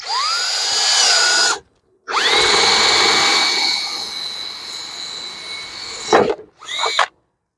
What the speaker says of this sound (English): we're gonna drill a hole right here